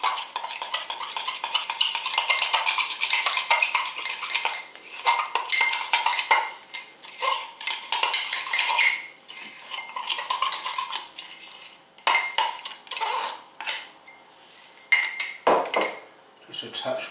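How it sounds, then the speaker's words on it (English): A whisk or utensil scrapes and clinks steadily against a pan while flour is stirred into melted butter, busy and close, easing into looser taps and clatter toward the end. "So I'll just add some flour to that butter. Let's give it a mix."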